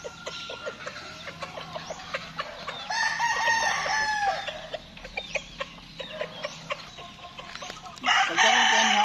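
Chickens cluck repeatedly outdoors at a rural Batangas home, with a rooster crowing loudly partway through and again near the end, plus faint distant bird calls.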